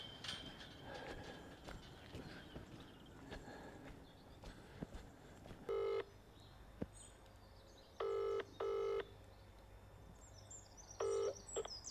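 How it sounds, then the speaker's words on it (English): A phone calls a barn builder, and the ringing tone sounds in several short paired bursts in the second half. Earlier there is quiet outdoor farm noise with a few footsteps. "I'm just giving the barn builder a call to see if"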